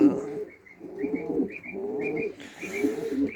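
An Adana pigeon coos nearby in low, throaty rolling phrases, repeated several times, with faint higher chirps from other birds in the background.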